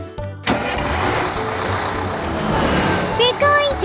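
A cartoon bus engine starts with a sharp kick and then rumbles on steadily for a few seconds. Brief high, tonal voice-like sounds come in near the end.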